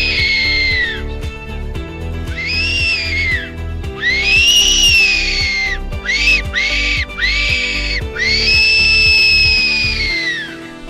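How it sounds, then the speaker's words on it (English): A hand-blown fox call whistle gives a series of loud, close, wavering high-pitched squeals in short bursts, separated by pauses, over a faint low rhythmic thumping. "have a bit of a whistle"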